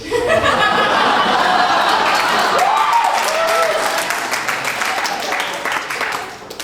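A comedy club audience breaks into applause mixed with chuckles and laughter, loud and dense at first, then slowly thinning and fading toward the end.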